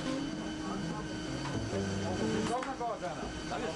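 A new Lufthansa Boeing 747 jet airliner hums with a steady engine drone, heard under a narrator's voice.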